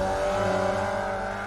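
Formula Vee race cars on the Long Beach street circuit drone past with a loud, sustained engine note, dense layered tones holding steady through the short moment without talk.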